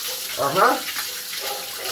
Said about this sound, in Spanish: qué rico cuando cae esta agüita